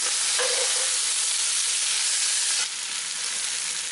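Onions frying in a pan, a loud close continuous sizzle that drops slightly in level partway through, steady and alone without any voices.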